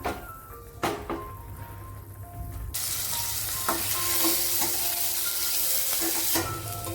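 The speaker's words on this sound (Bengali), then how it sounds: "এই তেলে শুকনো লঙ্কা আর কালো জিরে ফোড়ন দিয়ে আলুগুলো এবার দিয়ে দিচ্ছি" Potato pieces hitting hot oil tempered with dried red chillies and nigella seeds: a quieter stretch with a few knocks, then a sudden loud, steady sizzle that holds to the end, close by, with no talk.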